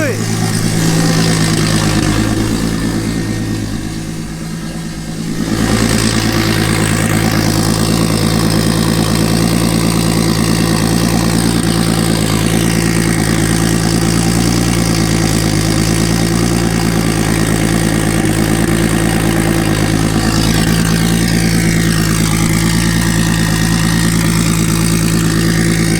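A loud, tuned, turbocharged Mazda Miata engine idles with a deep, rumbling drone that holds steady throughout, dipping slightly near the start.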